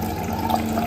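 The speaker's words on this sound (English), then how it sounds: "So we'll let the water flow." Water from a DC Life Pro Max water machine runs in a steady, close hiss of flowing liquid for about a second, with no voices.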